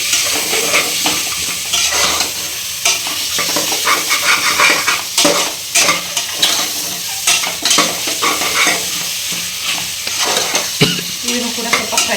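Mushrooms for biryani are stir-fried in a hot pan, with a loud continuous sizzle broken by repeated scraping and clattering strokes of a spatula against the metal.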